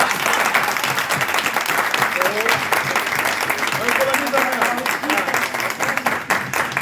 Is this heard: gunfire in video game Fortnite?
no